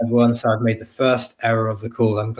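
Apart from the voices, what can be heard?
No everyday noise stands out behind the speech.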